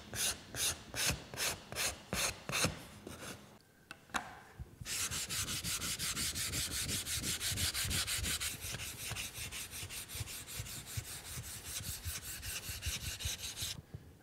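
Someone hand-sands wooden sled pieces with 220-grit sandpaper in steady rhythmic back-and-forth strokes, close and clear. There is a short pause, and then a longer run of continuous scraping follows.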